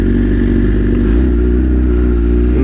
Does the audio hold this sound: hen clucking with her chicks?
no